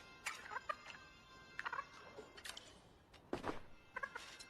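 Ranch chickens in a video game cluck and squawk in short, scattered bursts, several separate calls spaced over a few seconds at a fairly faint level, with no talking.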